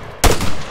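A sharp, loud burst of 6.5mm rifle fire in a video game cracks in after a brief quiet, followed by a ringing, decaying tail.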